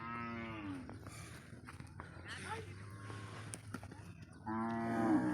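Cattle moo loudly nearby at a cattle market in the Bangladesh–India border area, with long low calls at the start and end, while people talk and move around in the background.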